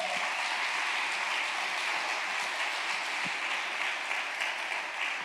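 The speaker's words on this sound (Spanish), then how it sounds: "¿Puedes darle un aplauso a Dios por eso?" Steady, sustained applause fills a church as a congregation claps together, a dense continuous wash of hands that holds at an even level throughout with no voices standing out.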